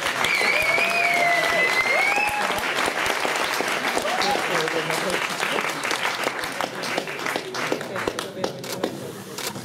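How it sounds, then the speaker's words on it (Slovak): Crowd at the awards ceremony of a night run in Zvolen gives a big, sustained round of applause for the race winners, dense and steady throughout, with whistles and voices mixed in near the start. "A ešte jeden veľký potlesk pre výhercov"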